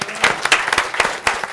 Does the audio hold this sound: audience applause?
yes